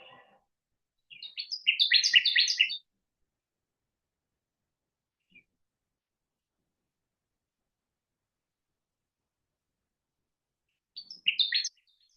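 Recorded warbler call played back: a burst of rapid high chip notes lasting over a second, then a long silence broken by one faint tick, and a shorter second burst near the end.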